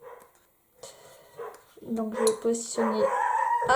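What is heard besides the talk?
neighbours' dog barking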